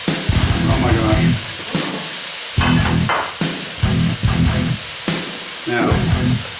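Porcini mushrooms sizzling loudly in a pan, steady hissing frying broken by bursts of stirring and scraping close up, with occasional speech.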